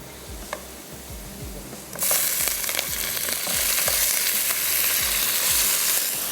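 Boiled beef hits a hot pan for bhuna masala and sizzles loudly, the frying hiss jumping up about two seconds in and holding steady, with faint stirring scrapes and clinks underneath.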